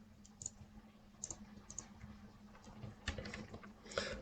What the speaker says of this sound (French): pour que tu entendes un petit peu mieux les touches